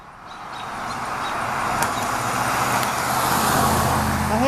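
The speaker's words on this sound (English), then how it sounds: "I heard a car." A car on the road near a food bank approaches, its engine and tyre noise swelling gradually from moderate to loud as it draws closer, with no talking over it.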